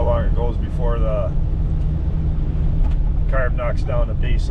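A 1979 GMC Vandura engine fitted with a new Edelbrock carburetor idles steadily on a cool morning, a low, even rumble running throughout while someone talks over it at intervals.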